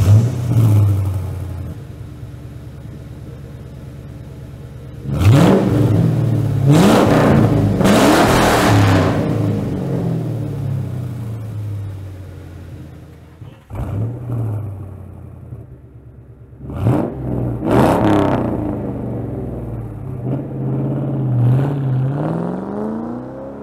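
An SN95 Mustang fitted with an SLP Loud Mouth cat-back exhaust, factory cats and factory headers revs loudly and closely in several sharp bursts that rise and fall back to a throaty idle, with a burbling rumble between blips.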